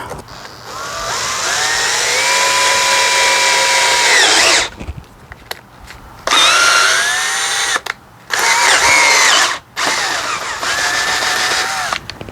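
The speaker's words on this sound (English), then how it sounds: "I said I drilled a hole here" A power drill whines loudly up to speed and bores a hole in a motorcycle in several long bursts, with short pauses and clicks between runs, close up, during a brake light install.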